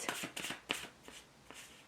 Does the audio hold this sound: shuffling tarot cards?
yes